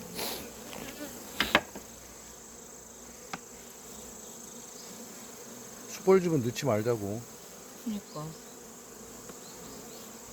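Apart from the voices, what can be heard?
yellow-legged hornet buzzing at a beehive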